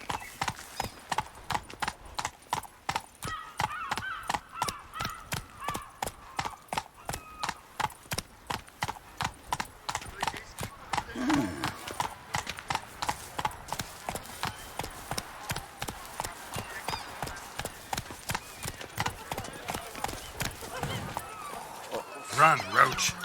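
The horse Roach gallops in The Witcher 3: Blood & Wine, a steady, fast clip-clop of hooves pounding on without a break under faint game ambience, with a brief snort or whinny partway through.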